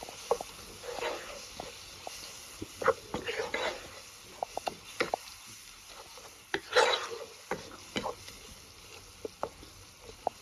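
A spoon scrapes and stirs turmeric through cooking tomatoes and oil in a pot, giving soft intermittent clicks and scrapes over a faint sizzle, with a quiet voice speaking at times.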